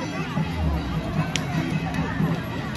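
A crowd fills a festive night street event in Dhansiripar, Dimapur, Nagaland, a dense hubbub of chatter with a low rumble running underneath throughout.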